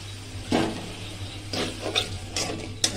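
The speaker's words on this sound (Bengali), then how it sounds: "ভালো করে মশলাগুলো কষিয়ে নিয়ে মটরশুঁটি দিয়ে দিলাম" Green peas tipped into a pan of spiced cabbage curry and stirred, giving soft scraping and clattering stir strokes at a steady, unhurried pace, close up with no voices.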